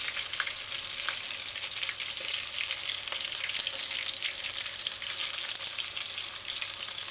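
Chicken pieces fry in a pot, a steady loud sizzle with bubbling oil and occasional crackles throughout, no voices over it.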